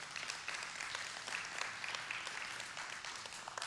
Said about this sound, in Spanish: ¿Qué le parece si le da un aplauso al Señor por eso?